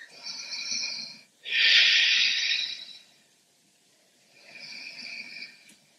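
Ujjayi breathing during a vinyasa yoga session: three slow, close, hissing breaths through a constricted throat, the middle one loudest, separated by brief pauses.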